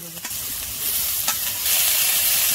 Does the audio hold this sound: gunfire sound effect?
no